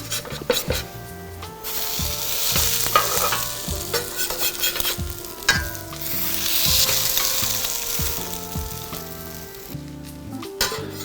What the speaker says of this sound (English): So I'm gonna go ahead and flip them.